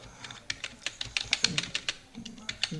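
Rapid keystrokes on a computer keyboard while writing Python code, a quick irregular burst of clicks, close and fairly loud, with faint low sounds underneath.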